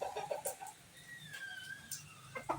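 Backyard chickens clucking on a drizzly, overcast morning, with short soft clucks and a faint higher call scattered over a steady wash of light rain.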